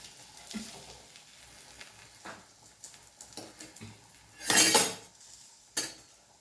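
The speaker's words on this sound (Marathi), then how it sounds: "आता थोडंसं याला कडाने तेल सोडून घ्यायचे तर कडा मोकळ्या होण्यासाठी" Thalipeeth frying in oil in a pan, a faint low sizzle with soft scraping and clinks, then two short louder bursts of crackling as oil is added around the edges.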